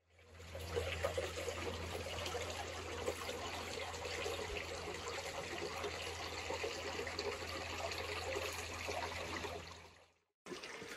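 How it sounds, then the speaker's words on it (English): Creek water trickles steadily along a stream bed outdoors, a continuous soft, even wash that cuts out briefly near the end. "I'm in a creek bed right here where the water has washed down the stream"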